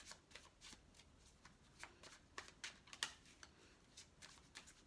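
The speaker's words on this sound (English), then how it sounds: "it's always good to give them another shuffle before we begin" Tarot cards being shuffled by hand, a quiet, close riffling with soft irregular flicks and snaps repeating over several seconds, no voices.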